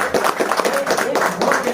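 An audience at a training program claps, giving scattered, uneven bursts of hand claps of moderate loudness, mixed with some voices in the background.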